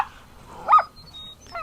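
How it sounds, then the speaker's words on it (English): Puppies give a single short, high bark nearby, followed by a faint whimpering yelp in an otherwise quiet setting. "Probably because the puppies are barking."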